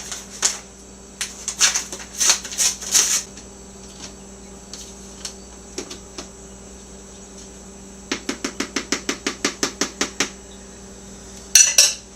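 A spoon stirs Lipton onion soup and dip mix into a bowl of dip, making sharp scattered clinks followed by a quick, even run of tapping strokes against the bowl, close and clear in a quiet room.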